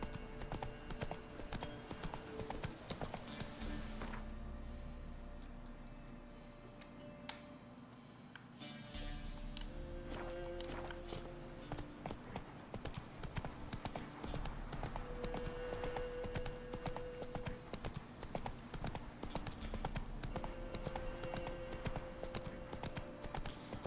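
Hooves of the horse Roach walking in The Witcher 3, a steady clip-clop rhythm over game ambience and music, with a short pause in the middle.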